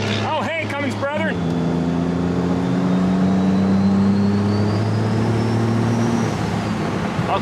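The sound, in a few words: Cummins diesel truck engine revving, dual S400 compound turbos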